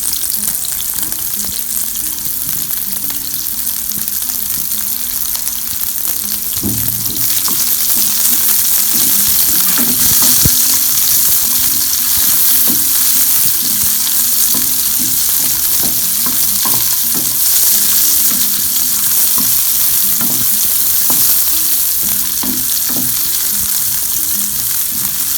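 Onion and sausage fry in a hot pan for a homemade sausage pizza, sending up a loud, steady, crackling sizzle with occasional stirring scrapes and taps throughout, and no voices.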